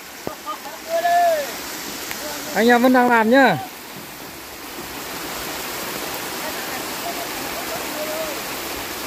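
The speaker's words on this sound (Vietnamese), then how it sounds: "Trời ơi, lũ to quá." Floodwater rushes in a constant broadband roar during heavy rain at a muddy Central Highlands loading site, with someone speaking briefly near the start over the flow.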